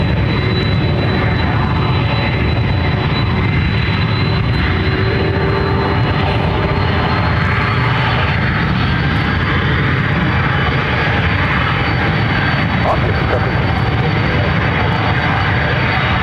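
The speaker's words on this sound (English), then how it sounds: "cleared for takeoff," A jet airliner takes off at Ontario, California airport, producing a loud, sustained engine roar with a faint rising whine. The sound holds steady throughout and is broken only by brief, faint radio chatter.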